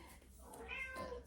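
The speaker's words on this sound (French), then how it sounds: "Oui, ça c'est mon chat." A domestic cat meows a few times close by, a short plaintive call heard faintly over a quiet room with a voice murmuring underneath.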